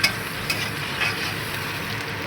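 Fish pieces fry with onions in a pan, giving a dense, steady sizzle that is close and fairly loud, with a few faint taps from stirring and no voices.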